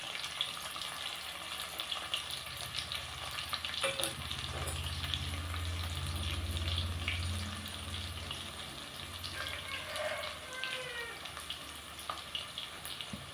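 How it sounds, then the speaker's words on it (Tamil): Onions sizzling and frying over a high flame for vegetable pulao, a continuous dense crackle with occasional stirring scrapes and a swell of louder frying midway. "நல்லா ஹை ஃப்ளேமில் வச்சு நல்லாவே வணங்க விடுங்க"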